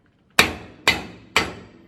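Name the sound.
hammering a socket to drive a freeze plug into an engine block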